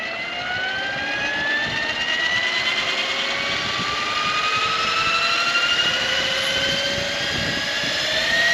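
A radio-controlled scale model helicopter runs steadily, its engine whine and spinning rotors forming a loud, continuous drone that rises slowly in pitch over several seconds. No voices are heard.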